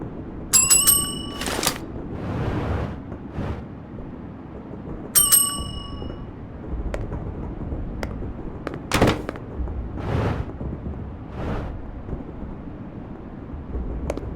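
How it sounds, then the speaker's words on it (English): A player bell rings in the video game Gorebox, with two bright, ringing chimes several seconds apart, mixed with sharp clangs and thumps. "This is the bell for players."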